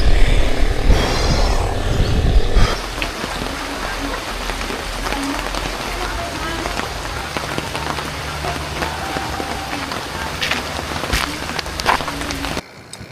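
Heavy monsoon rain pours steadily during a bike ride near Kaysuyo Bridge and Kaybiang Tunnel, a dense broadband hiss with scattered drops, louder and rougher for the first few seconds, then an even roar until an abrupt stop.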